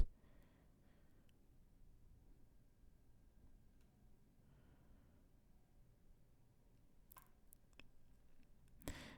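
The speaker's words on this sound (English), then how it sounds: "all I need to do is click Update PDF Report" A computer mouse gives a couple of quick, light clicks near the end, over faint room hiss, in a quiet office setting with no talking.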